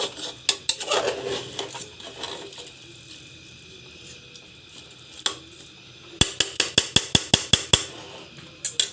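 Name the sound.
frying rice for chicken pulao in a pot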